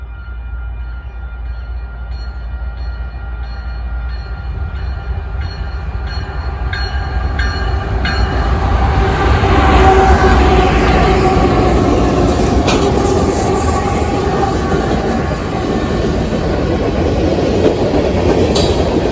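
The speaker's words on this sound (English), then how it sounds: "catch this westbound Union Pacific mixed freight train on the Geneva subdivision, with a special locomotive trailing second" Westbound Union Pacific mixed freight train rolling past a railroad crossing, a loud, steady rumble that builds as the cars close in, with rhythmic clicking of wheels over rail joints and a high crossing-bell tone above.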